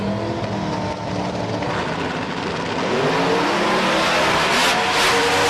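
A car revving hard while lifting its front end into a wheel stand, loud and continuous engine roar with rising pitch and some tire noise toward the end, no talking.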